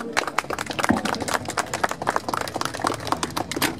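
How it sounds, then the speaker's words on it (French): An audience claps for the presenter of an Opel Manta A at a car show. Dense, steady, mid-distance applause with sharp overlapping claps and no voices heard over it. "Bravo, vous pouvez l'applaudir, mesdames et messieurs."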